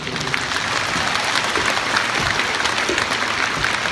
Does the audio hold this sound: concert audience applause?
yes